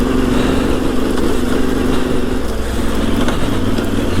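A Yamaha Tenere 700 motorcycle engine hums steadily while riding, a loud continuous drone with wind noise and a slight pitch shift partway through.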